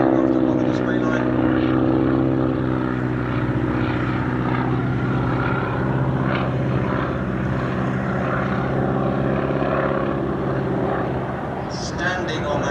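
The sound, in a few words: propeller aircraft flying display at Sywell Airshow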